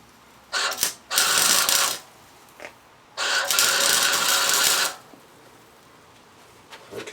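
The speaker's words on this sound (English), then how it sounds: "we're going to be using a flux core welder for this job" Flux core welder laying two short tack welds on an oxygen bung for a universal catalytic converter on an MK4 Jetta, each a crackling, sizzling hiss of about one to two seconds, close and loud, with quiet pauses between.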